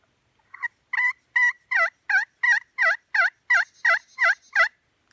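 Twelve short, evenly spaced yelps come from a slate pot turkey call, muffled by a hand covering its sound holes. The calls are soft and close, with a clear rising rhythm, and nothing else is heard.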